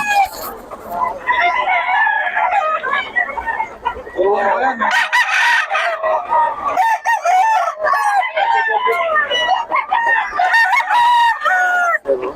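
Roosters crow loudly and chickens cluck at a poultry seller's stall in Taguig, overlapping calls from several birds filling the scene continuously and close by.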